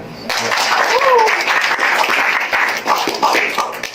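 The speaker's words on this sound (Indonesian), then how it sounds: "Itu Tepuk tangan" Audience applause at a YES community gathering, a dense wash of clapping that rises quickly and stays steady throughout, with voices talking over it.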